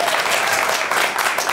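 Studio audience applause at the opening of a live talk show, a steady dense wash of clapping heard close and fairly loud for the whole stretch, with no speech over it.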